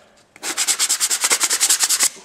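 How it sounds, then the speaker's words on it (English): Sanding block rubbed over freshly drilled kydex, about fifteen quick, even back-and-forth strokes in a steady rhythm, close up and crisp, with no talking. "we take our sanding block here."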